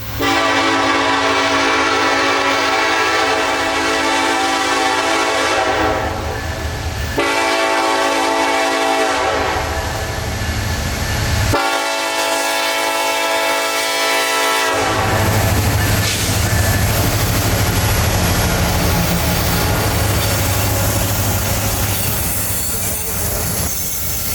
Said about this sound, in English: Two more SD70s hauling a very interesting train.